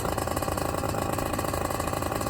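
BlackHawk TITAN 210 paramotor engine running steadily during break-in, a loud close continuous two-stroke drone at around 3,000 RPM with an even pulsing beat.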